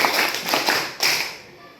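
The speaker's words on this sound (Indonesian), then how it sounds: "Tepuk 2, tepuk 3, tepuk 5," A classroom group of teachers claps a called rhythm pattern of twos and threes, several quick bursts of hand claps close together with a brief pause between sets.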